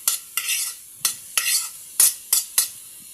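Sautéed bitter gourd (ampalaya) stirred in a pan: about seven quick, close scraping strokes of a utensil, each followed by a brief sizzle, in an uneven rhythm.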